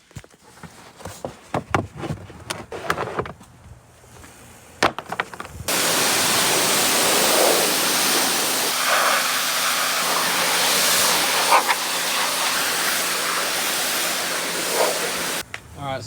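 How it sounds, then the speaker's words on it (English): A power washer blasts car floor mats with a loud, steady hissing spray lasting about ten seconds, preceded by footsteps and handling clatter. "power wash that mat and the other mat"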